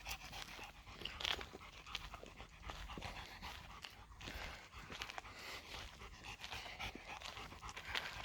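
Dogs panting heavily and steadily nearby at a wooded campground, quick rasping breaths continuing throughout with faint crunching movement in the background.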